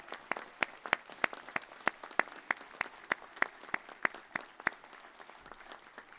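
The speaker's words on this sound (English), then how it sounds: "I'd like to invite everyone to give a special round of applause to all our graduates here today" Sparse audience clapping for graduates at a Griffith College graduation ceremony: distinct, evenly spaced individual claps ringing out in a large hall, fairly faint and thin rather than a full crowd.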